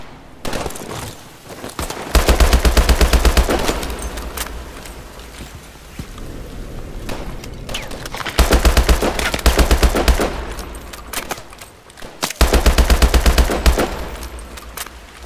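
Loud automatic gunfire in the video game Call of Duty Advanced Warfare, three long rapid bursts separated by quieter stretches of distant shooting.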